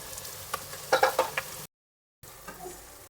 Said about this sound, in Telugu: టమాటాలు బాగా వేగిన తర్వాత చీమదుంపలు చిన్నగా కట్ చేసుకొని వేసుకోవాలి.